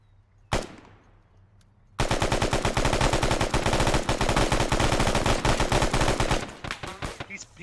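A single sharp gunshot, then a long sustained burst of rapid automatic gunfire in the Arma 3 military video game, loud and close, with brief talk.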